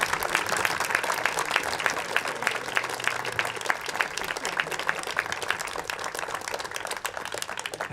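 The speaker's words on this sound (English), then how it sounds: "then a big applause for them, please" Steady crowd applause at a blind football tournament ceremony, many hands clapping continuously at moderate loudness, with faint voices underneath.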